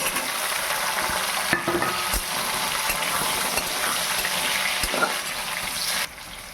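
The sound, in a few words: pumpkin and eggplant pieces added to hot oil, frying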